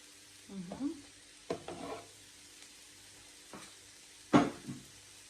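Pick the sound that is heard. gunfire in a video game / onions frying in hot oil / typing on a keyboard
onions frying in hot oil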